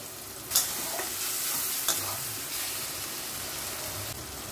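Turmeric, cumin powder and sugar stirred and fried in a pan for palak paneer, a steady close sizzle with a few sharp spatula scrapes against the pan.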